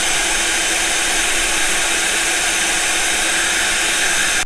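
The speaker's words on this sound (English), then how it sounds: "can you use the hairdryer at the same time?" A hair dryer running off a Jackery Explorer 2000 V2 power station blows continuously at full power, over 2200 watts, a loud steady whooshing hum that stops abruptly at the end.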